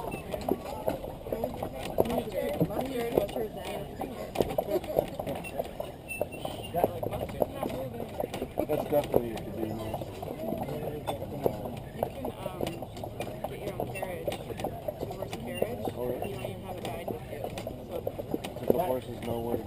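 Horse hooves clip-clop steadily as a horse pulls a carriage through downtown Mackinac Island, Michigan, a continuous rhythmic patter heard close under ongoing conversation from passengers.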